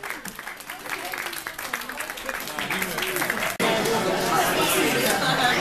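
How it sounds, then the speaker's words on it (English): Applause and cheering from a crowd at a Super Smash Bros. for Wii U tournament at Nintendo World, mixed with lively chatter, growing louder and fuller partway through. "Round of applause, guys."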